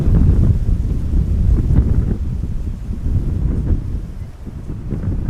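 Strong gusty wind buffets the microphone at Amsterdam Schiphol Airport, a loud, continuous low rumble that rises and falls over several seconds with no voices.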